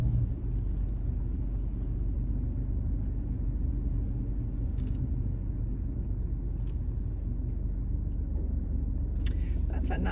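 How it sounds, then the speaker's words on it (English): Cadillac car waiting in a queue for a food pantry, a steady low engine rumble heard from inside the vehicle, constant throughout with faint clicks and light interior sounds. "That's a nice Cadillac."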